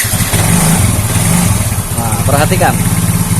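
A Yamaha Mio J scooter with a failing fuel pump IC idles steadily just after being started, a low continuous engine hum running throughout while someone talks over it.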